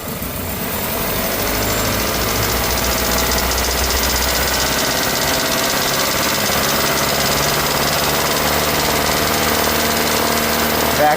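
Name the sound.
car engine revved to higher RPM during catalytic converter test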